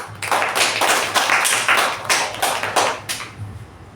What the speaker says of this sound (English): Let's again give a huge round of applause to our sergeant